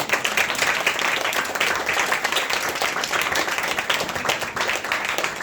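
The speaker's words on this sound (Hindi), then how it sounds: "आप इनके लिए भी तालियां बजा सकते हैं।" Church congregation applauding for Pastor Imran Ejaz, a steady, dense wash of clapping from many hands that holds evenly throughout.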